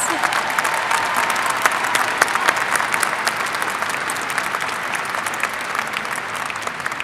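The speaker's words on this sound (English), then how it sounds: "Let's give them a round of applause." Audience at a summer/fall commencement ceremony gives sustained applause for honored graduates, a dense, even wash of many hands clapping at moderate loudness from start to finish.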